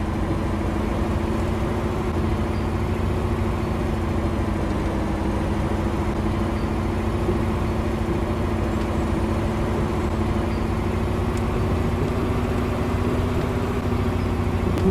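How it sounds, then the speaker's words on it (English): Truck engine in a driving game, a steady loud mid-pitched drone with a constant low hum that holds without a break, close and continuous with no voices. "once you hear that engine revving up, you know you're heading downhill"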